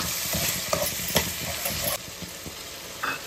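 A ginger, garlic, cumin, coriander, clove and cardamom masala paste hits hot oil and is stirred, a close steady sizzle with intermittent scraping clicks of the spoon.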